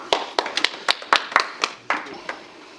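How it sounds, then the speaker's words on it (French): Sparse, scattered handclaps from a small audience after a French student's speech about being seventeen on an icy day, about ten separate claps spread unevenly over a few seconds, thin and hesitant rather than a full ovation. "C'est pas terrible comme applaudissement là."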